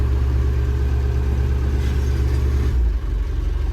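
A Massey Ferguson 135 digger engine runs steadily with a deep low rumble and is briefly revved, the note dropping near the end as the throttle eases off; close and loud with no talking.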